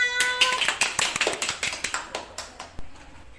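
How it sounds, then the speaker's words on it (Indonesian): A small audience at a talk-show event welcomes a guest with light, quick hand claps that start briskly and gradually thin out, with no talking over them. "Beri tepuk tangan."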